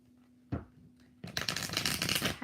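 A deck of tarot cards being shuffled up close, a soft riffle at first and then a dense, continuous flutter of cards that grows steadily louder until the end, with no talking.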